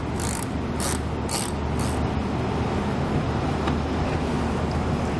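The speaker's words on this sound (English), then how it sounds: "There'll be one more Phillips head screw that we need to remove." Phillips head screw being backed out from behind a trailer or vehicle mud flap near the taillight, a steady ratcheting, clicking mechanism running close and continuous, with a few sharper bursts early on.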